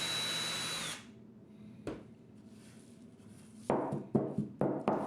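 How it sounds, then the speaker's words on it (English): A power drill with a 1/8 inch bit whines briefly while boring a pilot hole and then stops, followed by a few sharp knocks and clicks close by. "I'm using a 1/8 inch bit to drill the pilot holes"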